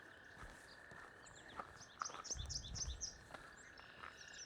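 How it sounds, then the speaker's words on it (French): Small songbirds, yellow warblers, singing a quick series of bright, sweet chirps in the distance, over a faint steady background hum. "On entend les parulines jaunes."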